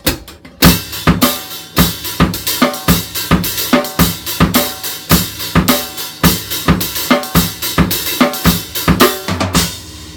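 Drum kit playing a steady eighth-note groove in 4/4 with the bass drum displaced off the beat, crisp repeated hits on cymbal and snare, loud and close, alone without talk.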